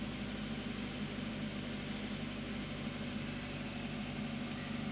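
A Perodua Myvi engine idles at around 1500 rpm with a rough air-conditioning-related instability, giving a steady, even low hum and drone with no talk over it.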